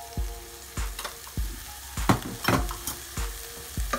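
A pan of spice masala for stuffed eggplant (bharwa baingan), with coriander powder, garam masala, red chili and turmeric, sizzles close by. Steady frying hiss runs under rhythmic scraping strokes of a spoon, about two per second.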